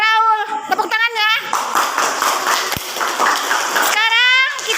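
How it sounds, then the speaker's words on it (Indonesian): Schoolchildren in a classroom clap together for a classmate, a dense burst of close, lively clapping lasting a few seconds, with children's chanting voices before and after it. "Tepuk tangan untuk Raul. Tepuk tangannya."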